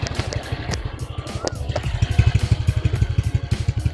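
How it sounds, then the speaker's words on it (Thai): A motorcycle engine idles close by, its exhaust thumping in a rapid, steady, quiet and deep pulse that grows slightly louder and punchier. "นี่เดี๋ยวให้ฟังเสียงท่อเลย"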